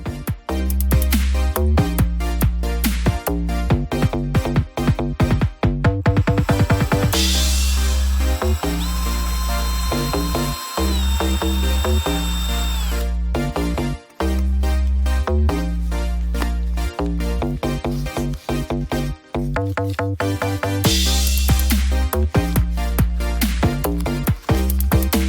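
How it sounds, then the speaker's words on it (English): A power drill spinning a bamboo fishing rod taped into its chuck, loud whirring motor with rhythmic buzzing pulses, repeated start-stop bursts and speed changes over about 25 seconds. "taping up the rod to the chuck in the drill, which I use to spin the rod"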